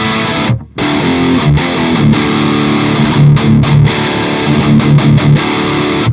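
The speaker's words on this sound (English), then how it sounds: "the bottom position is based on the 4x12 XXL cabinet" Electric guitar played through an ENGL Fireball amp pedal with a 4x12 XXL cabinet impulse response, a loud, thick distorted riff of chugging chords with short stops, heard alone.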